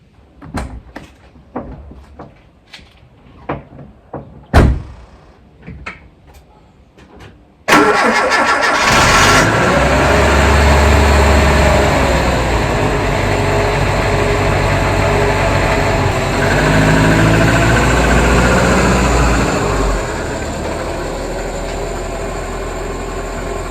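A 1980 Volvo 345 starts after a few door and cabin clunks, its engine catching abruptly, then settling into a loud, steady idle that holds for over fifteen seconds before dropping slightly.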